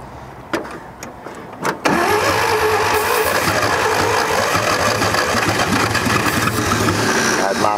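A 1946 International truck engine that had sat for decades, with a few sharp clicks and brief tries, then a loud, steady starter crank grinding on close by without the engine catching.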